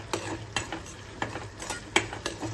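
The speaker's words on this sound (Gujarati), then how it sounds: "સતત હલાવતા રહેવાનું છે, જેથી કરીને નીચે બળી ન જાય।" Semolina stirred continuously in ghee for sheera, steady rhythmic scraping strokes of a spoon against the pan roughly every half second, close and clear over a soft sizzle, with no talking.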